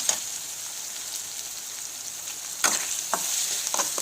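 Ginger garlic paste frying in hot tempering oil, a soft continuous sizzle with a few brief spoon strokes and scrapes near the end, close but fairly quiet, no one speaking.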